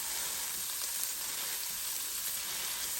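Onions frying and sizzling in a Power XL electric cooker while a Salisbury steak is being prepared, a steady close hiss of hot oil that holds evenly throughout with no talk.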